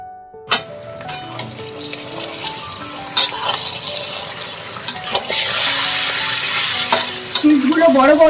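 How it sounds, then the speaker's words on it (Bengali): Large chicken pieces frying with onion in a pan while being stirred, sizzling continuously with scraping spatula strokes and clattering knocks, close and moderately loud. "পিসগুলো বড় বড়, তাই খুব সাবধানে নাড়তে হচ্ছে।"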